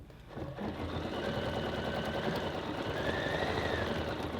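A Bernina 790 Pro embroidery module stitches steadily and quietly, a continuous mechanical whir with no voices over it.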